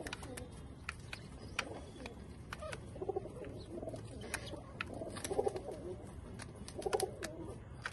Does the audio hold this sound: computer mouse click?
no